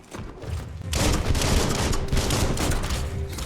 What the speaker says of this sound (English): The guns seem very powerful than my melee attack.